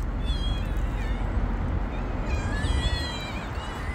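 Cats meow repeatedly in rising, wavering calls over a steady low rumble, several voices overlapping near the end.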